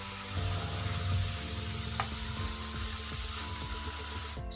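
Elephant foot yam (suran) pieces deep-frying in hot oil in a kadhai for a festive Diwali vegetable dish. They give a steady, close sizzle and bubbling throughout, with no talking.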